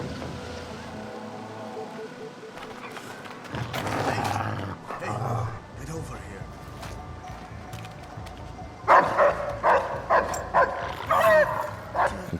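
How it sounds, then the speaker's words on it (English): Dogs bark repeatedly in the Splinter Cell Blacklist video game, with loud, close, rhythmic bursts of barking over game ambience and engine-like rumble, growing more insistent near the end. "as you may know, dogs are indeed back, and they can be pretty tough to deal with"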